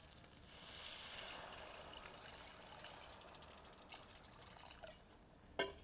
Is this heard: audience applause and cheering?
no